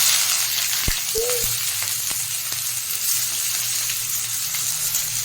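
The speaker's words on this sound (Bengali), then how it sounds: "পেঁয়াজটা একটু ভাজা ভাজা হয়ে এসছে" Chopped onions fry in a little oil in a pan, making a steady, loud, close sizzle with a few faint knocks and no talking.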